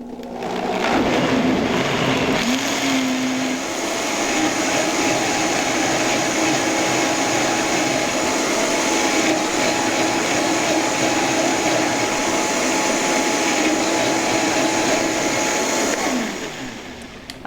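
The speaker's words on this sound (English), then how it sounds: "I like to blend mine till it's pretty smooth. With the Vitamix, you notice that I will pull it up like this." Vitamix blender puréeing creamy corn soup: a loud, steady high-speed motor roar that starts abruptly, holds for about fifteen seconds with slight pitch changes, then winds down, no talk.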